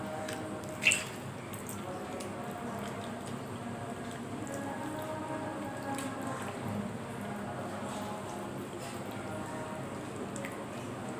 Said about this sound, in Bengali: এবার টমেটোগুলো ভর্তা দিয়ে দেব।